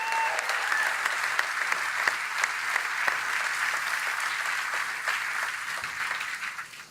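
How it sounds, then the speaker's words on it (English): A large crowd at a Ford plant announcement in Louisville applauds the workers, a dense, sustained roar of clapping that stays strong throughout before tapering at the very end. "let's give all these workers one more big round of applause"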